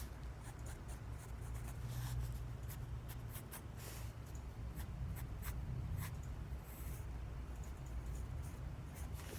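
A pencil scratching steadily across paper while a cartoon head is sketched, soft continuous strokes with short rhythmic scribbles, close and quiet over a low background hum.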